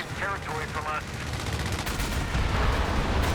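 Heavy automatic gunfire from a strafing run in the real-time strategy game Company of Heroes 3, a dense sustained rattle of shots with booming impacts, loud and continuous, with a few brief tonal game sounds near the start.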